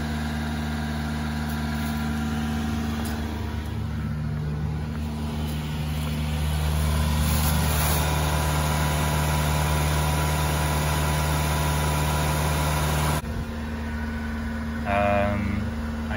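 Kei truck engine started without a key, idling steadily with a smooth, even mechanical hum and faint vibration for a long stretch, then cutting off abruptly, followed by a brief electronic beeping.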